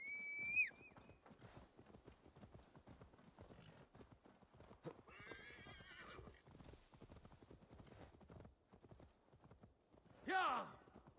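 Horse hooves clip-clop steadily in Assassin's Creed Valhalla, with a whinny at the start and another near the end, while voices talk over the trotting at a moderate, close distance.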